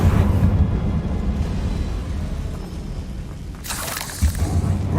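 A fiery Confringo spell blast in Hogwarts Legacy erupts in a loud, deep boom at the start and rumbles away. A sharp crackling burst near the end is followed by another low thud.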